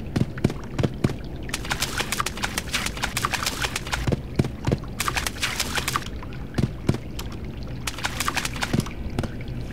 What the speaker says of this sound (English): stone footsteps when we're on land